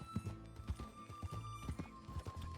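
Horse hooves clip-clopping at a steady walking rhythm in the Red Dead Redemption 2 video game, a series of close, distinct thuds over a faint tonal game background.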